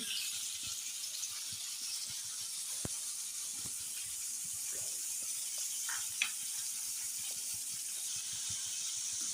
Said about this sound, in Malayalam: ജ്യൂസും കുറച്ച് മഞ്ഞളും കുറച്ച് ഉപ്പിട്ടിട്ട് പൊരിച്ചെടുക്കാം നമുക്ക്.